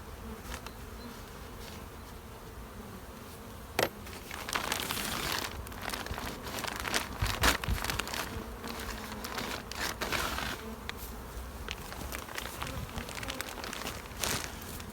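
Dense honey bee buzzing around an open hive with a deep white super and a medium super full of bees, a steady close drone with occasional handling crinkles and knocks.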